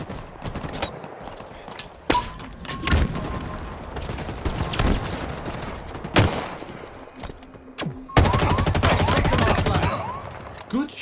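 Gunfire in a Halo Infinite capture-the-flag multiplayer match: bursts of rapid automatic fire and single sharp shots, loud and close, mixed with game effects and brief radio-style voice callouts.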